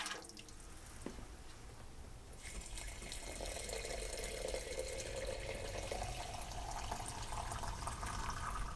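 Water pours steadily into jars for mashing malt, a continuous splashing, trickling fill that grows fuller and brighter after a quieter start, close by with no voices.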